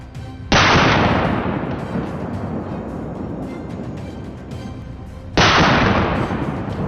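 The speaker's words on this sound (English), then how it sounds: "Then we opened fire. Gunshots echoed through the forest" Two loud, close gunshots ring out in a forest during a wild boar hunt, each a sharp blast followed by a long echoing decay, the second coming about five seconds after the first.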